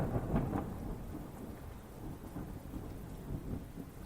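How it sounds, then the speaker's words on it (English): Heavy rain falls in a forest at night, a dense steady wash with low rumbles of thunder rolling beneath it throughout. "The rain was extremely heavy that evening."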